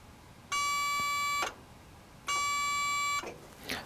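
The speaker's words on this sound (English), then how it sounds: "So when I touch the ends of this, I want to hear the same tone." Two sustained electronic beeps from a multimeter continuity tester with probes on a clothes dryer part, each lasting about a second with a short gap between, clear and fairly loud over faint background.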